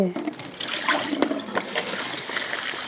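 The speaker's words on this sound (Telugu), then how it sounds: "ఇలాగా 2 సార్లుగా వాటర్ మార్చేస్తాను" Running water pouring steadily in a kitchen sink as rinse water is changed, a continuous trickling splash with a few brief louder spurts, close by and moderately loud.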